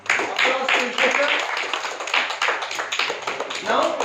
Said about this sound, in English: Applause to Ishwar.